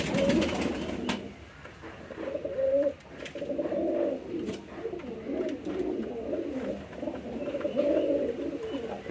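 A male pigeon coos repeatedly to a female, soft throaty rolling calls in a steady rhythm, close and fairly loud over a light breezy outdoor background.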